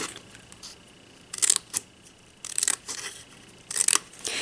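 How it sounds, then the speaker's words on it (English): Quiet, close snips of scissors cutting score lines in cardstock, three short clusters of crisp cuts separated by brief pauses. "we are going to cut up these score lines"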